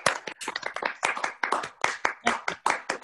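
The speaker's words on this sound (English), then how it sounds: "we'll join in a round of applause for Dr. Joseph Ferguson." A single person claps rhythmically for about three seconds during a video call, each sharp hand clap close to the microphone with brief gaps between them.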